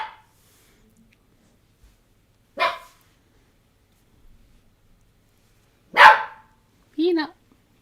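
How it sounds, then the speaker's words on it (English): A dog gives a few sharp, spaced barks in a quiet room, each one brief, with a softer vocal sound near the end. "what are you barking at?"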